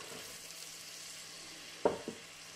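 Leeks, onions, garlic and carrots go into melted butter in a pot for lentil soup: a soft, faint sizzle runs steadily, broken near the end by two quick clatters of food or utensil.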